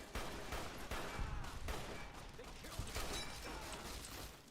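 Submachine gun fire in a video game, rapid dense bursts of shots with mechanical clatter, loud and close, running almost continuously.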